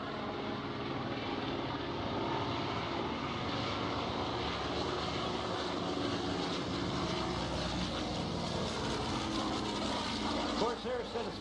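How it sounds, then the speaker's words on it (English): A WWII Navy Corsair, the bent-wing fighter with a radial engine, drones loudly and continuously as it flies at an airshow, a dense roar with a commentator's voice running over it. "a radial engine."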